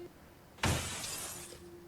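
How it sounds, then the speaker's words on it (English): Glass shatters in the Helltaker video game: one sudden loud crash that bursts in and then trails off into a long bright scattering of fragments over a faint steady hum. "Lucifer is cut short by an unmistakable sound of glass shattering"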